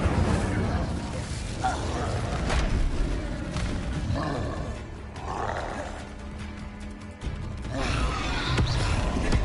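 An Incendio fire spell is cast in Hogwarts Legacy, a loud roaring burst and whoosh of flames amid dense, continuous game sound effects with a voice heard.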